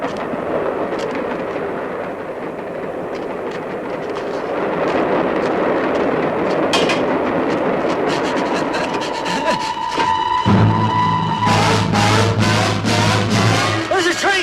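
A train draws steadily closer in a tense dramatic scene, its rumble and clatter swelling continuously and joined near the end by a loud, sustained horn blast.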